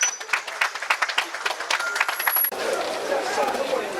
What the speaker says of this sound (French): J'aimerais que mes frères ici applaudissent ce geste qu'il a fait pour nous, qui est très grand.